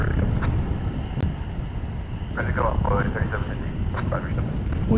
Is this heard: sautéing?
no